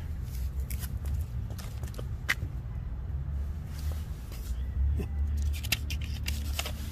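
Cutting up an RCA RMW733 microwave oven into pieces, a series of sharp metallic snips and clicks scattered irregularly over a low rumbling background, close by, with no speech.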